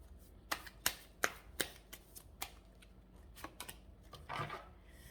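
Tarot cards shuffled by hand during a reading: a run of crisp, separate riffling snaps, close and fairly quiet, ending in a longer soft burst of card rustle, with no voices.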